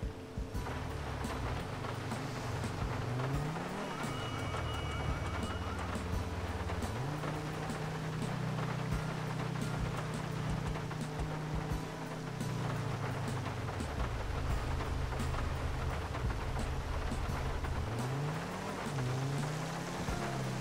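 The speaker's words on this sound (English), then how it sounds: "Everybody likes to see the wet floors, so let's go ahead and put on the rain." Steady broadband rain hiss in GTA 5 with the Natural Vision Evolved graphics mod, continuous and even throughout, with low engine-like rumbles and sweeping vehicle tones passing underneath.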